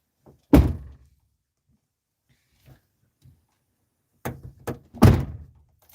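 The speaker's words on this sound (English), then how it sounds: "Close the door." A van door is pulled shut with a solid thunk, followed by a few faint knocks and then a second louder slam as it is closed again; no talking.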